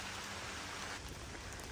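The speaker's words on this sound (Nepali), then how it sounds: "पानी पर्यो गाइस, पानी पर्यो।" Steady rain falls during a hike on a slippery mountain trail near Pokhara, Nepal, a continuous, even hiss of drops with no talk over it.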